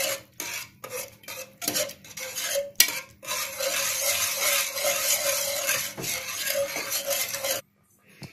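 A utensil mashes cooked spinach and dal with softened onions in a pot, making repeated scraping, rubbing strokes against the metal. The strokes start in short bursts, turn into a steadier stretch, then stop abruptly.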